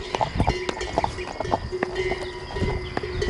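Hooves clop in an uneven, irregular rhythm as cows move between grazing areas in the Riofrío forest near Segovia, sharp close knocks over a faint outdoor background.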